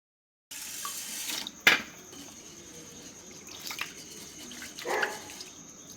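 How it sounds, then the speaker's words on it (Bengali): Rice being washed in a kitchen bowl and the water poured off, with a faint running-water wash, a sharp knock and a brief splash nearby and quiet. "আমি চালটার এখন জলটা ফেলে দিচ্ছি আর দুবার ধুয়ে নিচ্ছি পরিষ্কার করে"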